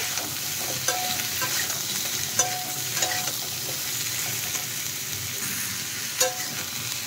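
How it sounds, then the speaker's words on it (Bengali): Bottle gourd and potatoes fried in spices sizzle steadily in a pan while a spoon stirs and scrapes through them in irregular strokes, close and clear with no talking. "এখন আমি লাউ আর আলুগুলো দিয়ে দিলাম। দিয়ে একটু নেড়ে চেড়ে ভালোভাবে কষিয়ে নেব"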